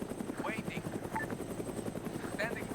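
A military helicopter in the Arma 3 game thrums with a fast, rhythmic rotor chop under a steady engine hum, while people speak over it intermittently.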